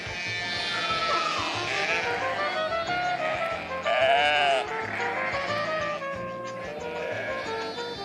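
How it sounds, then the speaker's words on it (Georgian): Ewes and lambs reunite with a chorus of overlapping bleats, some high and wavering, others deeper, coming from close by and continuing without a break. "დედა ცხვრისა და ბატკნის შეხვედრა ძალზე ემოციური და ხმაურიანი სანახაობაა"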